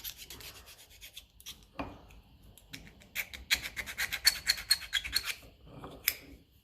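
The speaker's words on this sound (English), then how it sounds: "get the file in" Hand file rasping burrs off a part of a 1954 Ferguson 20 TEF diesel tractor, short irregular scraping strokes close up, growing into quicker rhythmic passes with brief pauses between.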